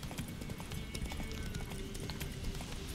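Steady clip-clop of horse hooves trotting at an even rhythm, continuous and fairly close, over a busy ambient soundscape in The Witcher 3.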